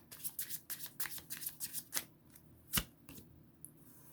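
Playing cards being shuffled for a three-card reading: a run of quick riffling bursts, close and fairly soft, followed by a few sharper single card snaps and taps.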